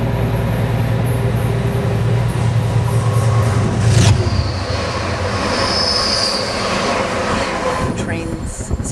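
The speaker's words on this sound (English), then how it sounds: "when you're waiting on the platform, you hear these screeching, horrible screeching sounds" New York subway train wheels screech loudly against the rails at a platform, a sustained metallic squeal over a rumbling carriage, with a sharp burst midway.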